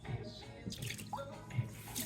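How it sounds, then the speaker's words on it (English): Water being poured and replaced in a pet cat's bowl with filtered water, heard as soft, close splashing and trickling over a faint hum. "Let's go ahead and replace the water."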